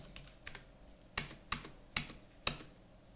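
Keys on a computer keyboard are tapped as an invoice number is entered: a handful of soft clicks, then four crisper, evenly spaced keystrokes, close and quiet in an otherwise still room.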